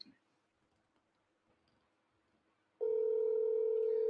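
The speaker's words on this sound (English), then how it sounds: "Mayor Swaby, answer the phone!" A telephone dial tone heard while placing a call: near-silence with faint background murmur, then a loud, steady continuous tone cuts in abruptly and holds to the end.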